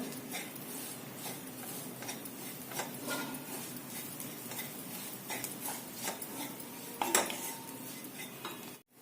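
A masala mixture with pawta beans and jaggery being stir-fried in a pan, steady soft scraping and clinking of a spoon against the pan with occasional sharper knocks, fairly quiet and without talk.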